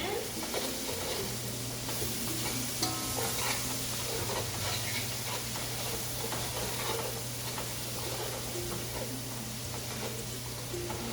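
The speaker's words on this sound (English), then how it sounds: "we're going to keep on mixing" Curried vegetables stirred in a pan with Thai curry paste, a steady continuous scraping and sizzle with a faint low hum running underneath throughout, close and even in level.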